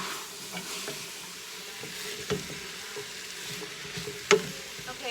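Tomato paste being stirred into lentil soup vegetables in a pot, with a steady close sizzle and soft scraping strokes throughout, plus a couple of sharper spoon knocks against the pot.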